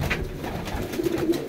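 Pigeons from a Faisalabad loft coo softly and repeatedly, a few low murmuring calls rising near the end over a steady background hum, with no voices.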